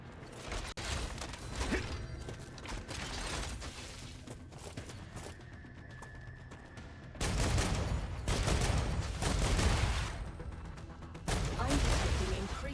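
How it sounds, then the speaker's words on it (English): Video game gunfire in a live-streamed shooter with Ruptura enemies, dense bursts of rapid shots and mechanical clatter running throughout, growing louder and heavier in the second half, with brief speech mixed in. "Gun sounds crazy."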